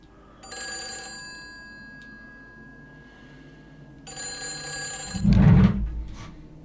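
An old-style telephone bell rings in the horror game Them and Us, two separate bursts of metallic ringing a few seconds apart, the second cut off by a heavy thud.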